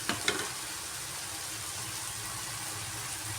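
Vegetables for a potato curry frying in a pan: a steady, close sizzle with a couple of sharp stirring clinks at the start, then an even hiss on its own.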